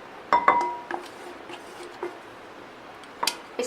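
Cooled custard being spooned into a glass bowl, with a few sharp clinks of the spoon against the bowl, scattered quietly over a few seconds.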